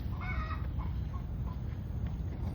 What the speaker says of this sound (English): You could hear chickens.